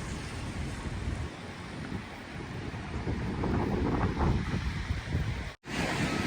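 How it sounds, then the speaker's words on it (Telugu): Wind blows hard during snowfall on a street in South Korea, a dense, rushing roar with gusty buffeting against the microphone, steady and loud throughout apart from a brief cut-out near the end, with no talking. "దీనికి తోడు గాలి కూడా బాగుంది"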